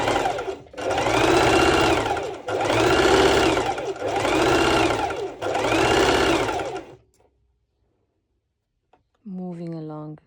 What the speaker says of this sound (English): This is the elastic channel, so I'm just doing a straight stitch.